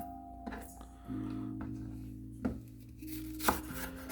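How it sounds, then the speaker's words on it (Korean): A kitchen knife chops fresh water dropwort (minari) on a cutting board, a few sharp, separate knocks spaced irregularly over a low background hum, close by and fairly quiet. "칼질 한 볼게요"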